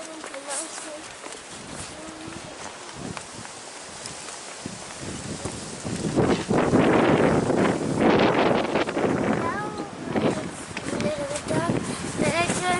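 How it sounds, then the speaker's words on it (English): Wind gusts buffet the microphone on a quiet street in Benidorm, rising into a louder, steady roar midway, with a voice speaking faintly beneath the rumble. "It's a little bit windy."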